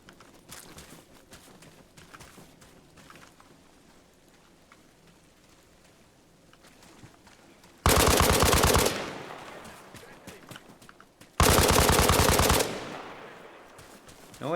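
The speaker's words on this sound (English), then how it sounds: "I'm hearing gunfire." Gunfire in the video game Arma Reforger comes as two loud bursts of rapid fire, each about a second long, over a quiet background of soft ambient noise.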